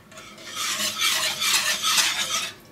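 A wire whisk stirs milk heating in a saucepan, making a close, swelling rasp of rapid metal strokes that rises and falls for a couple of seconds before easing off.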